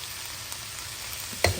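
Mushrooms, green onions and other vegetables sizzle steadily in a hot pan for a chicken dish, a constant close frying hiss with a brief louder clatter near the end.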